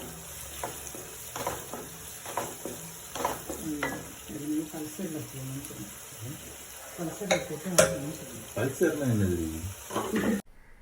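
Mustard seeds, pepper and fenugreek fry in hot oil for a South Indian fish gravy, a continuous close sizzle with light popping and occasional utensil clinks, while a person talks over it.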